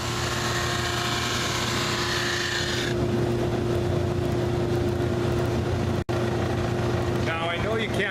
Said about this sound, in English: So this sander's perfect for it because it sands that flat and perfectly smooth